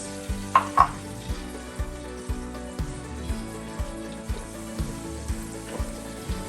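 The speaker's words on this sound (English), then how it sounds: "The next thing that goes into your oil is the onions that we have sliced." Sliced onions frying in oil in a pot while Kenyan pilau rice is being prepared: a steady sizzle runs throughout over a regular rhythmic thumping pulse, with no talking.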